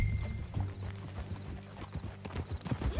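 Horse hooves clip-clop at a walking pace in Red Dead Redemption 2, uneven thuds under a soft game soundscape with faint background tones.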